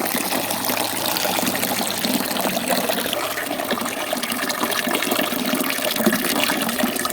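Watermelon juice pouring in a continuous liquid gush, steady and close with a slight trickling edge, running without pause for several seconds.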